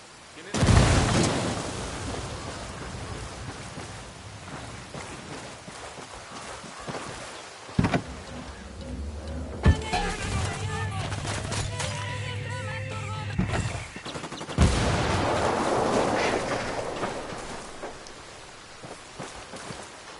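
Frag grenade blast and gunfire in the shooter game Ghost Recon Wildlands: a sharp explosion near the start, then scattered shots, a low rumbling stretch, and a second burst, all over a noisy crackling bed.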